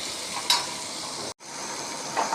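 Green chillies and curry leaves sauté with rock salt in a pan for an okra curry, giving a steady broadband sizzle with a couple of brief spatula scrapes and a short break partway through.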